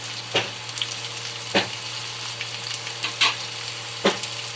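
Chopped onion and tomato sautéing in a pan with a little coriander for Marathi phodnicha bhaat; a steady hiss of frying with four sharp, separate spatula scrapes and a low background hum, no talking.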